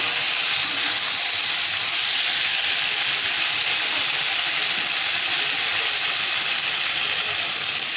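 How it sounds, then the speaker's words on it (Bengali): Water hisses and steams loudly and continuously after being poured into a hot pan of sautéed potato curry, a sustained close sizzle with no talking. "এবার জল দিয়ে দেবো"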